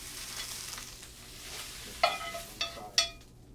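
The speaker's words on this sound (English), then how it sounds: "he's just sort of flash frying it to wilt it a bit" Greens are flash-fried in a hot pan for oyster pancakes, giving a steady close sizzle with a few sharp clanks of a utensil against the pan, without any talk.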